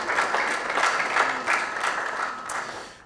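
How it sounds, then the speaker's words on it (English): A studio audience on a news talk show applauds a guest, a brief, full burst of crowd clapping that holds steady and fades out at the end. "A round of applause for her."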